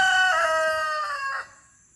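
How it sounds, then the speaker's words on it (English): An American Bresse rooster crows once nearby, a loud, harmonically rich call that holds and wavers before dropping off abruptly, heard alone. "That turned out to be a beautiful rooster right there to me."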